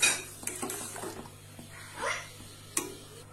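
A spoon scrapes and clinks against a pot while boiling milk for rasgulla is stirred, with a burst of bubbling and soft liquid sloshing between the strokes.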